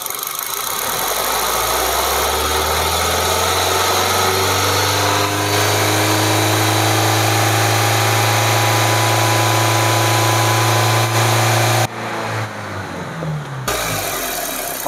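A used family car's engine runs loudly nearby, revving from idle to a steady higher hum at 2000 rpm that holds, then briefly dips and resumes.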